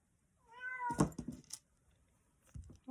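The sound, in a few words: cat meowing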